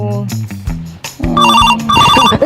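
A telephone rings in a comedic Bhojpuri-Hindi domestic scene, its repeated electronic ringtone chiming loudly in bursts over background music, with people talking around it.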